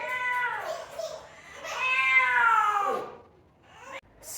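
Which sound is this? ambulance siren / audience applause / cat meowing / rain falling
cat meowing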